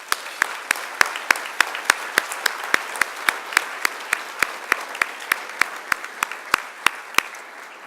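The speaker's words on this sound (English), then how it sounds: "let's give her a round of applause" Audience applause at an annual meeting of a trustees organization, steady rhythmic clapping that sounds like a single close clapper plus a softer crowd behind, lasting several seconds without talk.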